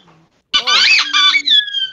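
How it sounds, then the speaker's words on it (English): A dog plays with a squeaky toy ball, producing a burst of loud, high, wavering squeaks lasting about a second and a half, close by, with no talk over it. "A dog found a squeaky ball."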